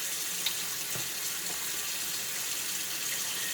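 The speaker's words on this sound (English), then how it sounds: "Water heating up so I can wash my hands." Tap water runs steadily into a sink in a home kitchen as it heats up for handwashing, a continuous close splashing rush.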